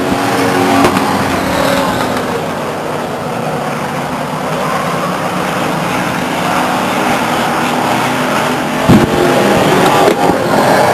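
Race cars roar around Stockton 99 Speedway on the final lap, a loud continuous engine drone that swells and fades as the pack passes, heard up close without talk.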